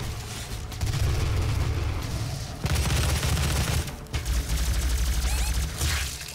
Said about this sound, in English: he just sprayed me with the shotgun